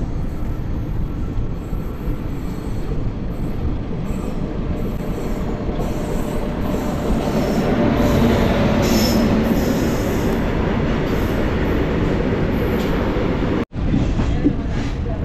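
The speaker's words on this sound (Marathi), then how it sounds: "आणि इथून येते लोकोमोटिव्ह." Locomotive-hauled train rolling into Gondia station, a loud continuous rumble of wagons with squealing wheels and rail clatter building up, then a sudden brief dropout near the end, with voices faintly mixed in.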